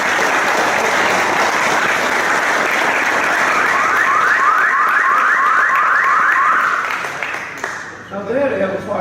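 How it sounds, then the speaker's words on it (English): Sustained applause for a fire chief at a city council meeting marking the fire department's ISO 1 rating, loud and steady for about seven seconds, with a repeating electronic alarm-like chirp sounding over it midway before the clapping fades and voices begin. "he deserved a big round of applause again for his accomplishment"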